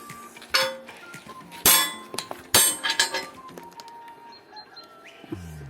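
Steel nuts for frying pan legs, part of a pan made from a harrow disc, clink and clang as they are handled, giving several sharp metallic hits of varying loudness up close with small rattles between them.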